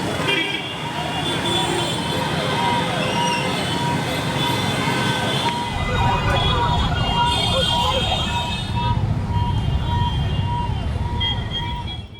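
A wailing fire engine siren sweeps up and down continuously amid loud traffic rumble, with a voice talking over it.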